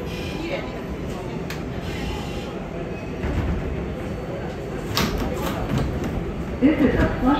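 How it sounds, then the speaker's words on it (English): Inside a Flushing–Main Street bound R188 7 express train on the New York subway, there is a continuous rumbling ride noise with occasional thumps and rattles, and a voice is heard over it. "This is a Flushing Main Street bound 7 express train."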